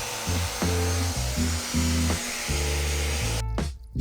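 Power sanding pad working over old wooden ceiling beams in a woodworking shop build, a steady loud whirring grind with pitch shifting in stepped bursts as pressure changes, ending abruptly.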